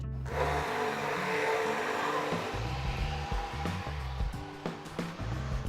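A blender whirs continuously while blending a lotus seed sweet soup with sugar and cream. The motor sounds loud and close, its pitch shifting slightly as it runs, and nobody speaks.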